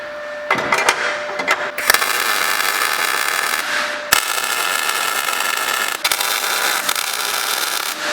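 Tack welding engine mounts during an E36 BMW V8 swap, a loud crackling, sizzling arc heard in several bursts separated by brief sharp pauses, close and harsh.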